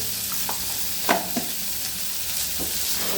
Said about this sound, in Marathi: आता टाकणार आहे त्याच्यात हिरवी मिरची.